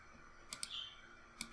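Two pairs of sharp computer mouse clicks, close and crisp, separated by a short pause with a faint electronic whine between them.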